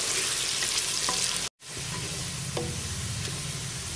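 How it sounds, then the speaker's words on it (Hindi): Onions for beef daleem fry in a pan with a steady close sizzle and occasional stirring, briefly cut off mid-way before the sizzling resumes. "इसको मैं पहले सबसे पहले फ्राई कर लेती हूँ।"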